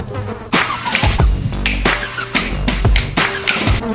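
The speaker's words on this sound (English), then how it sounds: "Bees!" Loud, close buzzing of bees in an attic, with overlapping drones rising and falling and several sharp thumps breaking through.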